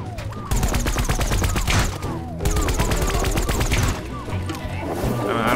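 Rapid bursts of automatic gunfire in Plants vs. Zombies: Battle for Neighborville, in a boss fight against Dreadwood. Loud, dense volleys fire in two long runs with a brief gap between them, over a steady game score.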